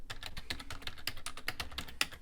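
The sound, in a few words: typing a file name on a computer keyboard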